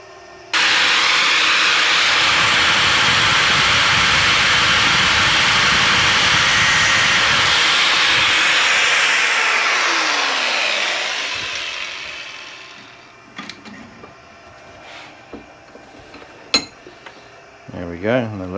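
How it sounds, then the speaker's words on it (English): Angle grinder cutting through motorcycle control cables on a Royal Enfield Bobber, a loud steady high-pitched grinding whine for about ten seconds that winds down as the disc slows, followed by quiet clicks and handling clatter. "Just so it don't flap everywhere when I go through it with the grinder."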